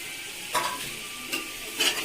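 Handfuls of mint and coriander are stirred into mutton biryani in a pan, with three quick scraping stirs over a soft sizzle, close and fairly loud.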